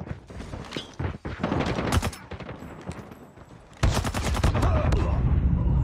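Striker 45 fire in Call of Duty multiplayer ranked play: loud, close bursts of rapid shots come in clusters, with mechanical clatter between them and a heavier barrage near the end.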